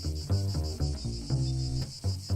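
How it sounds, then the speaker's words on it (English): A cicada sings a shrill, steady buzzing song in short, regular pulsing phrases, close and fairly loud, over a rhythmic tune. "Little Cicada loved to sing"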